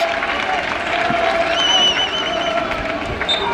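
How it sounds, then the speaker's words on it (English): Spectators cheer and clap at a youth soccer cup final, a broad, moderately loud crowd roar with scattered whistles and voices rising over the field's background noise. "Crowd cheers."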